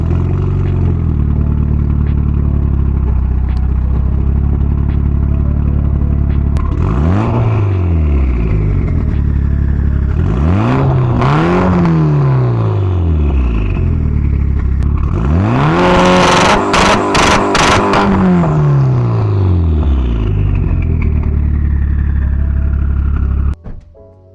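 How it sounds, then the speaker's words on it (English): A Mitsubishi Lancer Evo X idles with a deep, loud exhaust burble, then is revved hard about four times, each rise and fall sweeping up and down with turbo spool and crackle before it cuts off abruptly. "You can hear the turbos spooling."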